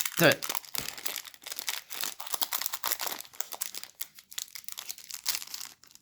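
A Pokémon Sword and Shield trading card booster pack's foil wrapper is crinkled and torn open up close, a sharp burst of crackling followed by continued rustling handling, with a voice talking over it.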